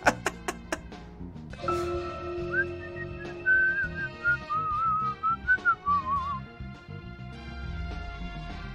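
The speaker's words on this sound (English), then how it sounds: "It's just whistling now." Melodic whistled tune from the video game Deadly Premonition, a wavering line carried over soft background music after a few sharp clicks at the start, moderately loud with no talk.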